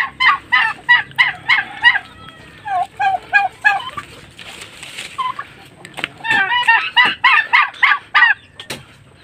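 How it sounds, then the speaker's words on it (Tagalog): A flock of turkeys gobbling loudly and close by in rapid repeated bursts, pausing briefly before another round of overlapping gobbles. "Bali, ito ang mga alaga dito ni Kuya Alvin. Yan, mga pabo."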